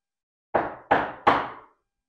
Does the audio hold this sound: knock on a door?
yes